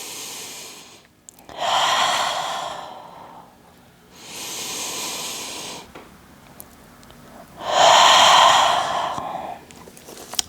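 Slow, deep breaths during a yoga forward fold, three long airy exhales spaced a few seconds apart, close and fairly loud in a quiet room with no talking.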